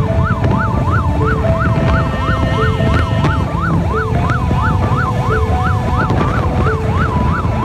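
Ambulance siren wailing continuously in a rapid rising-and-falling pattern, loud and close, with a second steady two-tone siren alternating beneath it from a police escort clearing traffic toward a hospital in Thailand, over heavy road rumble.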